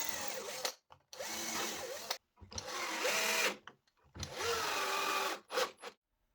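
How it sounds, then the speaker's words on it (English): Power drill driving screws into parts clamped to a workbench, several short whining bursts of a second or so each with rising and falling pitch as the screws seat, separated by silent gaps, close and loud. "I will go ahead and clamp these to my workbench and then drive the screws from the other side."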